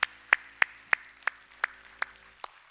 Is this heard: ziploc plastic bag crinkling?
no